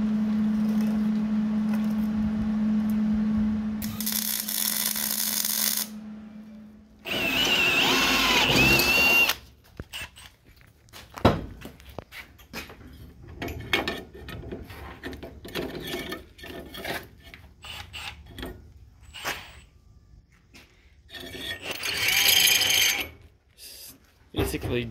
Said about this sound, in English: used the step bit to widen everything out and make sure it all is nice